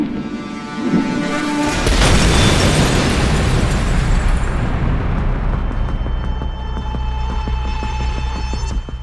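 A heavy explosion bursts loudly and rolls into a long, rumbling decay with debris-like crackle as it fades.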